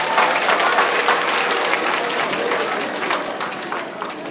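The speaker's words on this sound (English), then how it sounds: "let's give them a round of applause" A school audience at a student Lighthouse inauguration gives a round of applause for students, dense steady clapping from many hands that holds for several seconds and slowly tapers off.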